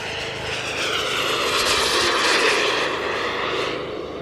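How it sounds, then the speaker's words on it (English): A JetCat turboprop engine powers an all-composite Tomahawk model aircraft at a model airshow, a loud steady roar with high whine that swells slightly as it passes. "It's powered by a JetCat turboprop engine"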